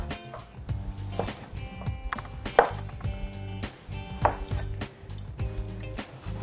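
Knife slices a tomato on a board to cut out the seeds, giving a series of close, irregular chopping taps and thuds, some sharp and some softer, with no talking.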